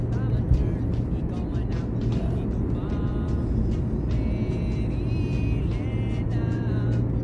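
A car drives home from work through light traffic, with a steady engine and road drone inside the cabin, a low hum, and faint higher tones over the top.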